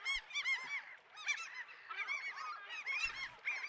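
Geese honk repeatedly in a nature reserve where birds nest away from people, a run of loud, overlapping calls rising and falling in close bursts with no talk.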